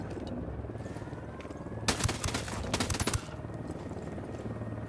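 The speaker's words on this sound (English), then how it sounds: "Unidad's firing on the cartel." Rapid bursts of distant automatic gunfire in a Ghost Recon Wildlands firefight as Unidad forces shoot at cartel members, a dense crackling volley of roughly a second and a half over steady background ambience.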